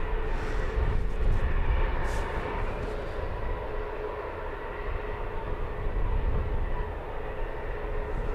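Jet airliners from Wizz, Ryanair and EasyJet depart London Luton Airport, a sustained distant rumbling roar of engines that swells slightly early on and then holds as a broad steady drone.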